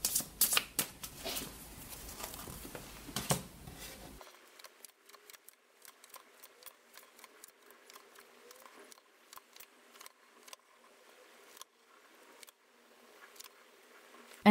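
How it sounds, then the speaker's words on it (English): A deck of Russian Gypsy fortune-telling cards is shuffled by hand in a quiet room, first in a dense riffling burst and then in a long series of light, irregular flicks and taps. "I'm going to give these cards a little shuffle"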